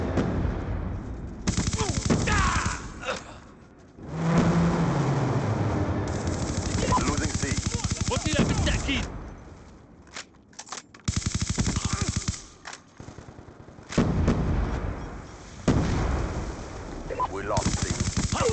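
Heavy machine-gun fire from a Warthog strike in Black Ops 2 on the Overflow map, long roaring bursts alternating with short pauses, loud and close, with game voices speaking in places.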